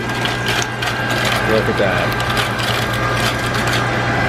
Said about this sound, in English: I want to write an Amazon review on this ice machine because it can do things that no other ice machine can do.